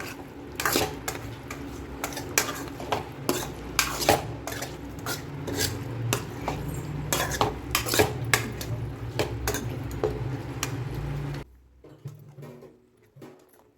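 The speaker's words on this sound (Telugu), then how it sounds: "అల్లం వెల్లుల్లి పేస్ట్ అంతా చికెన్ బాగా పట్టే వరకు కలుపుకోవాలి." Country chicken being stirred with ginger garlic paste in a pot, rapid rhythmic scraping and clinks of a utensil against metal, close and steady, stopping near the end.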